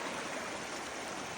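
A river rushes in a steady, dense wash of flowing water at a Bulgarian gold-panning spot, close and continuous with no pauses or voices.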